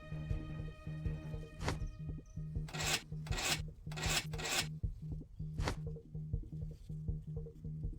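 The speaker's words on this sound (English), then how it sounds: "And use the wrench." A wrench works on a pipe in a video game, with rhythmic scraping, rasping strokes in bursts over a steady low hum and faint background tones, close and clear with no talking.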